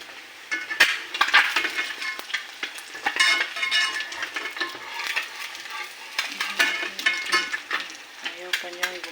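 Eggs fry in a hot pan with busy sizzling and sharp crackling pops, stirred with clinking utensil scrapes against the pan, close and lively throughout.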